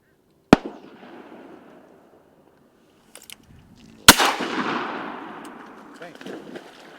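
Shotgun blasts during a duck hunt: one sharp close report, a brief pause, then a second loud shot that booms and rolls away in a long outdoor echo, with faint talk and rustling between.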